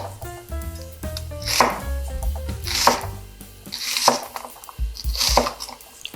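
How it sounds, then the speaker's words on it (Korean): A knife chops a whole onion on a board for water kimchi, giving about four sharp, distinct cuts spaced roughly a second apart, close and moderately loud, with no talking. "양파 1개 썰어 넣을 거예요."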